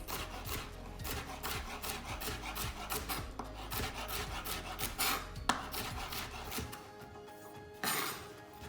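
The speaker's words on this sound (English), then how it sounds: "which I'm just going to half down the middle and then dice." Rapid, steady knife chops dicing half a celery stick on a cutting board, close up and rhythmic for several seconds while making seafood chowder.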